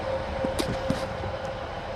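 Two-coach diesel train idling at Carlisle station, a steady engine rumble with a faint tone and a few light clanks nearby.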